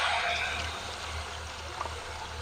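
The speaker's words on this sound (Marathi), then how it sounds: "आता ह्या ज्या गुळाचं पाणी आता मी ह्याच्यात घालून घेते" Jaggery water is poured into roasted rice and grated coconut in a pan while making khandvi, producing a continuous close hiss of liquid rushing and trickling for the whole moment.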